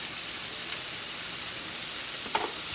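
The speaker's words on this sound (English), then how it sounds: "I'm going to caramelize these onions." Onions sizzle and caramelize in a pan for bacon, egg and cheese burgers, a steady, even frying hiss with a single faint stir or scrape near the end.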